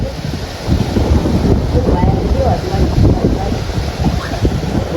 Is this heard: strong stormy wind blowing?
yes